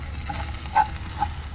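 Sliced onions sauté with ginger garlic paste in a pan for prawn pasta, making a close, dense, even sizzle with a couple of soft spatula scrapes.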